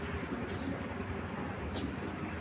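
Racing pigeons at a pigeon farm cooing softly amid a steady background hum, with a couple of brief higher chirps rising above the low, continuous murmur.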